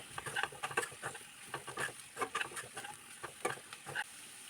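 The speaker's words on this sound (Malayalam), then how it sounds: "ഇനിയും പൊടികളുടെ എല്ലാം പച്ച ടേസ്റ്റ് മാറി കിട്ടുന്നിടം വരെ ഇളക്കി കൊടുക്കാം" Spice powders stirred in a pan while frying for a vegetable biryani, giving repeated soft scraping strokes over a light sizzle, close and moderately quiet, with no talking.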